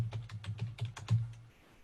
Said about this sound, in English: Let me quickly finish typing here.